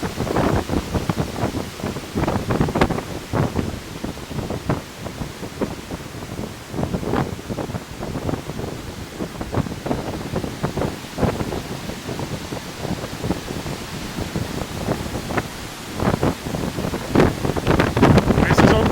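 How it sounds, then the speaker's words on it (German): A hailstorm with strong wind at Lake Chiemsee roars in loud, buffeting gusts across the microphone, with dense rapid impacts throughout. "Ihr könnt euch den Sturm nicht vorstellen gerade."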